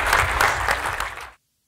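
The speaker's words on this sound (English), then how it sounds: "Give him a round of applause." Audience applause after a man is told to open up a book, a dense burst of clapping from a crowd that carries on steadily, then cuts off abruptly into near silence.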